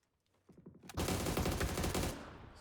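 Rapid bursts of gunfire in PUBG during a competitive EU scrim match, a few scattered shots building into a loud, dense volley that holds for over a second before trailing off.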